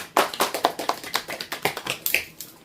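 A small group clapping their hands in a classroom, a quick run of about fifteen sharp, close claps in an uneven rhythm lasting under three seconds, with no talking over it.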